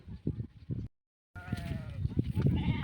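Sheep bleat several times, wavering calls after a short pause, mixed with a voice talking nearby.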